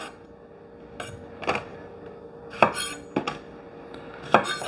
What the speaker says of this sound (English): I'm gonna cut the ends off.